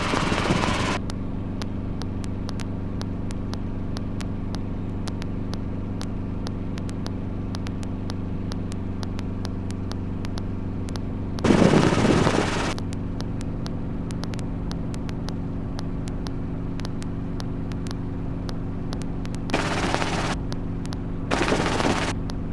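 Steady rotor and engine drone from a training helicopter hovering two to four feet off the ground, loud and continuous, with brief bursts of louder noise partway through and near the end.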